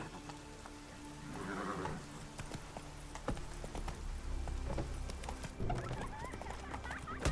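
Hooves of the horse Roach galloping in The Witcher 3 video game, a quick patter of hoofbeats under a busy game soundscape with music, fairly faint and continuous.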